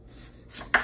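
A kitchen knife dices an onion for a vegetable and chicken pasta with béchamel: one sharp, close chop lands near the end, following quieter board noise.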